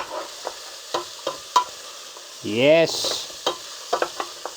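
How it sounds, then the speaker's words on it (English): Green and yellow vegetables fry in hot olive oil with a steady sizzle, broken by repeated scrapes and knocks of stirring; a voice briefly speaks partway through. "As soon as your olive oil is hot enough, insert the green and yellow vegetable mix."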